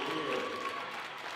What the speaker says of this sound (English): you've got a loud bench cheering for Cowan down there